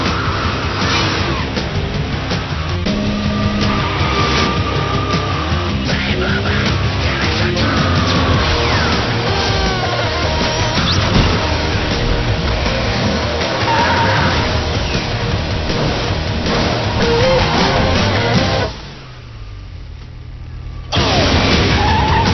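Racing car engines in the combat racing video game Jak X Combat Racing: a loud, continuous motor roar with whines and tire squeals, briefly dropping out near the end before returning.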